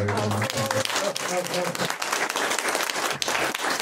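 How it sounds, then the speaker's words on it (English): A round of applause from a small audience at a Pride gathering in a café, steady clapping throughout with a voice talking over the opening moments. "one more big round of applause for all of our"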